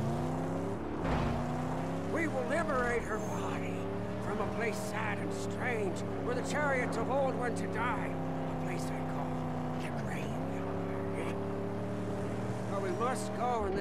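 A vehicle drives across the wasteland in Mad Max on Xbox One, its engine droning steadily with shifting pitch throughout, while someone talks over it much of the time.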